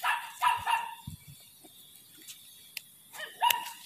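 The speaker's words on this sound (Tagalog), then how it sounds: "Pasensya na po, maingay yung aso ng kapitbahay" A neighbour's dog barks in short bursts from nearby, a few sharp barks at the start and again at the end, with quiet pauses between.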